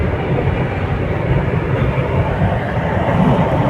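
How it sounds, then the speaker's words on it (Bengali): A train seen from near the Pancharatna Bridge in Goalpara, Assam, giving a loud, close, steady rumble with rhythmic low clatter throughout, with no talk. "ওই যে ট্রেন দেখ"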